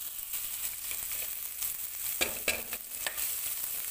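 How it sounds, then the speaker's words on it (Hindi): Garlic, ginger and onion fry in hot oil with cumin for a cauliflower dish, producing a steady close sizzle with a few sharp stirring clicks and scrapes in the middle, and no talking. "हुण असी इहदे विच लसन अदरक प्याज पावांगे।"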